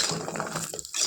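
Dal bori frying in hot oil for a spicy dish, a close crackling sizzle with small bubbling pops over a second.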